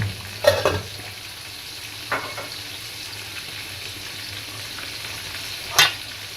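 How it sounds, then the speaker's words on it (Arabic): Basmati rice simmers in a pot with a soft, steady bubbling hiss, broken by a few faint clinks, quiet and close. "الرز بيغلى اهو"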